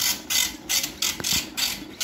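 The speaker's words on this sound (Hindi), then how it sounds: "पेपर प्रिंट करने लगेगा" An Olivetti PR2 Plus printer feeds and prints paper in repeated short ratcheting mechanical bursts, about five quick clattering passes separated by brief gaps, close and clear.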